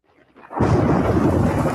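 A thunderstorm rumble builds from near silence into loud, sustained rolling thunder with a rain-like hiss. It plays on its own in a regional radio roofing advert about Ozarks storm damage.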